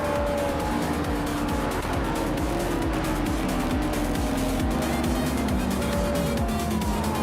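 Race cars roar around the Okayama GP circuit in a racing game, several engines revving and overlapping as cars run nose to tail, with tire squeal and rising and falling pitch throughout.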